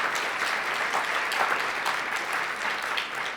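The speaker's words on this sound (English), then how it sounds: "Let's give them a round of applause." Steady applause from a breakfast audience at a legislative summit, a full, even clapping texture heard alone at moderate distance.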